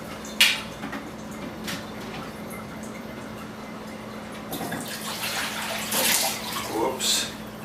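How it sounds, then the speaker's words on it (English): Vegetable rinse water poured from a container into a bowl in a kitchen: a few brief splashes early, then a longer uneven pour with sloshing and spattering bursts toward the end, fairly close. "I'll just pour some of this into this bowl here."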